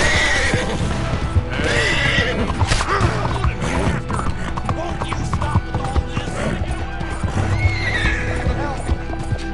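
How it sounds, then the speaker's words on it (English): Horse hooves clatter in a steady galloping rhythm with occasional neighs in Red Dead Redemption 2, while a person talks over the busy, layered action. "I'm getting on my horse."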